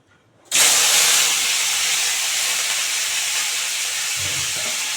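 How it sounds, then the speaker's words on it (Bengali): Prawns drop into hot white oil in a heated wok and set off a sudden loud burst of sizzling that settles into a strong, steady hiss nearby. "এবার চিংড়ি মাছগুলো দিয়ে দিচ্ছি"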